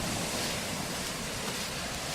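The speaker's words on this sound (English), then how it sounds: "Can you hear the waves?" Ocean waves wash onto a beach in Lagos in a steady, broad hiss of surf, continuous and moderately loud, mixed with wind rumble against the microphone and no voices.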